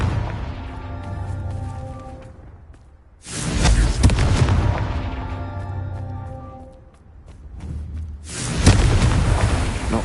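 Three heavy explosive blasts from the Confringo spell in Hogwarts Legacy, each a sudden loud boom followed by a long rumbling, ringing decay, spaced a few seconds apart.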